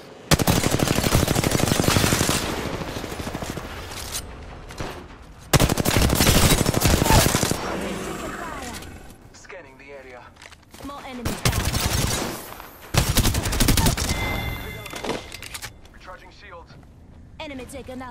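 Bursts of automatic gunfire in a shooter video game come in loud repeated volleys separated by quieter stretches, with a voice talking in places.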